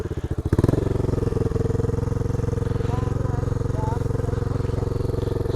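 Dirt bike idling with a steady low throb, then given a little gas as the clutch is slowly let out, the engine pulsing evenly nearby while a person speaks over it.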